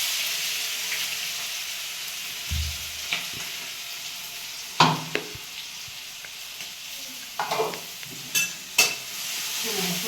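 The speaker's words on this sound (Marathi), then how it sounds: "तेल गरम झाले जिरे मोहरी टाकून घेतले वाटण टाकून घ्यायचं" Cumin and mustard seeds crackle in hot oil as a green paste of garlic, coriander and chilli fries in a home kitchen, a steady sizzle with a few sharper pops and stirring knocks.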